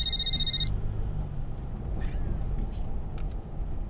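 A phone rings with a short electronic tone for under a second, then stops, leaving soft room noise with faint movement during a school's morning announcements.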